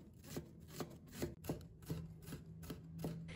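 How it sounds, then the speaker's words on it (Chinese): A knife dices chili peppers on a cutting board, each chop a sharp close tap in a quick, slightly uneven rhythm of about seven or eight strikes, with no voices present. "再切成2段，再切成丝， 最后改刀切成小丁。"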